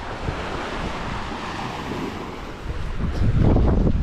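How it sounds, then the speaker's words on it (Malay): Strong wind on a hilltop in Greece roars and buffets the microphone as a loud, steady rumble, swelling into a heavier gust near the end, with no voices. "Tengoklah keadaan sebab angin kuat kat sini. Kuat sangat."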